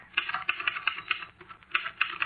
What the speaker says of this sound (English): And the typewriter clacked away.